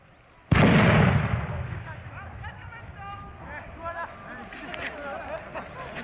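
A single sharp grenade blast cracks out of quiet outdoor ambience and decays over about a second. Voices then shout and talk nearby.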